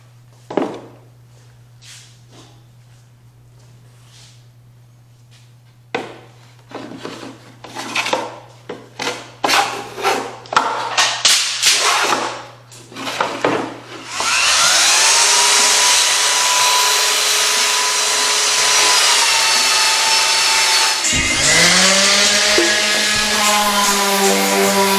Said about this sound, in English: So I'm sanding to 220